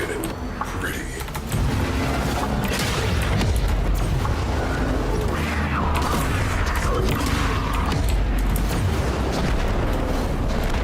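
A cruise ship reactor detonating in Warframe: a sustained loud, rumbling explosion with creaking, grinding debris and booms churning continuously throughout.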